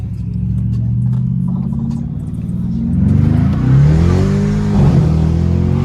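Turbocharged BMW 550i with catless downpipes and straight pipes, heard from inside as a loud, steady engine drone that climbs in pitch while accelerating, with rising and falling revs and whooshing turbo noise toward the end.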